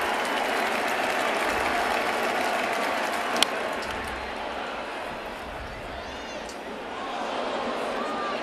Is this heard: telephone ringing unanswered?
no